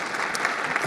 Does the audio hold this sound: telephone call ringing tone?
no